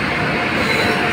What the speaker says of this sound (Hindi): और अभी कोई सी ट्रेन आई है